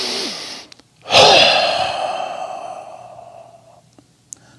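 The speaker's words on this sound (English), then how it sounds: "The first breath is the dump breath." A deep, forceful exhalation for the dump breath of Tummo breathing starts with a loud burst and fades slowly over about three seconds. Softer breath sounds come before and after it.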